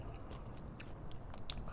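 Miss Vickie's barbecue potato chips eaten with sardines crunch faintly up close, a few soft bites and chewing crackles over a low background hum.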